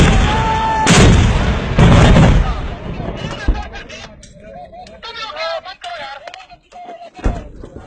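Pakistani army soldiers firing rifles outdoors, loud booming shots in quick succession at the start, then a lull with men calling out before one more heavy report near the end.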